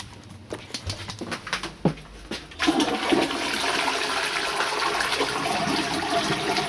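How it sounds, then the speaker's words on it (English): A toilet flushes with a sudden rushing surge of water that carries on steadily to the end, preceded by a few scattered knocks and clicks from the handle and tank. "let's see which way the toilet flushes"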